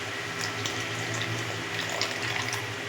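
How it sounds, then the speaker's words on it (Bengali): Flour-thickened water is poured into a cooking pot of soya chilli gravy, producing a steady, continuous splashing, trickling wash of liquid, fairly loud and close throughout. "আর এই জলটা আমি এর মধ্যে দিয়ে দেবো।"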